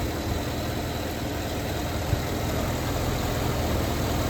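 A 2008 GMC Yukon Denali with the 6.2 engine idles smoothly, a steady, low, even rumble with a constant hiss, heard alone and without talk.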